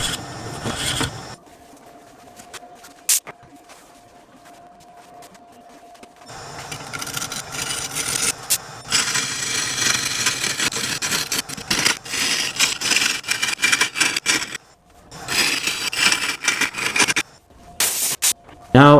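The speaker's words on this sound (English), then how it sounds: "Drilling a large hole to the bottom of the container makes hollowing out much" A drill grinding a large hole into a birch burl on a woodturning lathe in long uneven bursts, rough and close, stopping and restarting several times after a quiet stretch.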